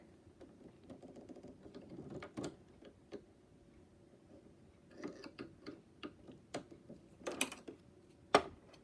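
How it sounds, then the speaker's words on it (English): A screwdriver works the presser foot loose on a Brother Innovis NS2750D embroidery machine, with soft metallic clicks, taps and small ratcheting scrapes, quiet and close, with no talking. "we can use our regular screwdriver here"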